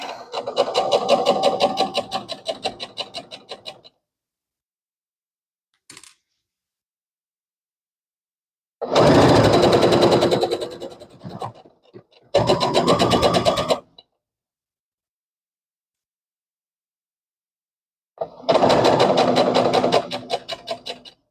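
Sewing machine stitching a double circle skirt, running in short bursts of rapid mechanical whirring separated by long silent pauses, the first and last bursts around three seconds each, close and clear with no talking.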